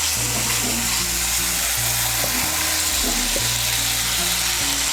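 Fried pointed gourd is stirred into a tomato-sauce spice masala in a pan, giving a dense continuous sizzle over a steady low tonal drone, with occasional soft scrapes.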